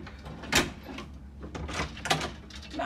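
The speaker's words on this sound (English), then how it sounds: "We need to shut the door to let you in." Door being shut in a house, a sharp knock-like impact near the start followed by scraping and a second thud, close and fairly loud with some handling noise between.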